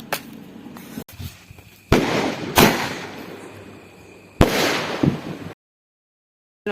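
New Year firecrackers bursting outdoors, with a sharp crack near the start followed by several loud bangs and crackling bursts spread over a few seconds, then silence.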